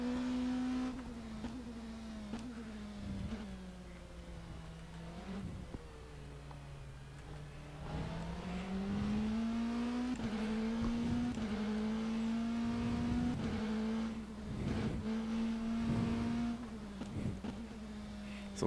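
An LMP3 prototype race car engine in rFactor 2 drones steadily and loud, its pitch rising and falling through gear changes with brief dips, running continuously throughout.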